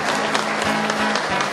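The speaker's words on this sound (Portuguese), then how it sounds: "uma salva de palmas a Santa Paulina." Church congregation clapping during a 6 a.m. Mass at the Santa Paulina sanctuary: a short burst of steady, dense applause in a reverberant space with a faint tone sustained underneath.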